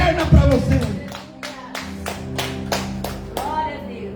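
Church congregation clapping in worship, a dense burst of applause that thins into a run of sharp, evenly spaced claps, with a preacher's voice and sustained music tones underneath.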